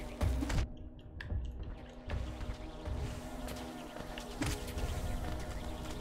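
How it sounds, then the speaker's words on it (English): Swarming bees buzz steadily in the video game Hollow Knight, a busy insect drone with scattered clicks and thuds of in-game action running throughout. "Bees!"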